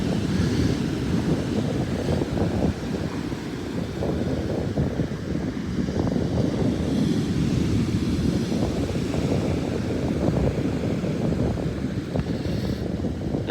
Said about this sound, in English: Some big waves there.